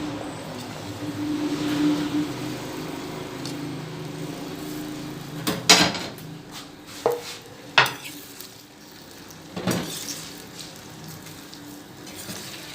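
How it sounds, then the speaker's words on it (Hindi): Okra (bhindi) stirred in hot oil in a pan for achari bhindi, a soft steady sizzle with a few sharper clinks and scrapes of a spoon against the pan. "और अब हम इनमें अपनी भिंडियाँ फ्राई करते हैं।"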